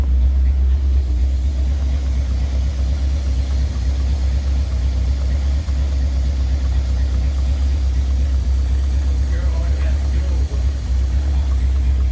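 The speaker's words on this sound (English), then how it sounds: "I gotta play with adjusting that idle up just a hair," A Mercury car engine idles after a Motorcraft 2100 carburetor rebuild, a steady low rumble running throughout at close range with faint background sounds over it.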